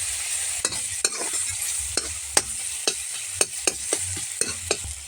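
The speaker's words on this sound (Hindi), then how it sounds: "टमाटर को अच्छे से भून लेते हैं" Tomatoes frying in a pan after onions, stirred with a utensil that knocks and scrapes about a dozen times over a soft, steady sizzle, close and without voices.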